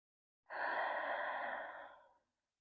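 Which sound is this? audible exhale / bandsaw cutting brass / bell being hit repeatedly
audible exhale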